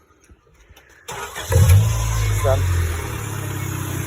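A 1989 Honda Prelude engine, dosed with engine cleaner, cranks and catches after a second of quiet, then settles into a steady, close idle; someone speaks briefly before it starts.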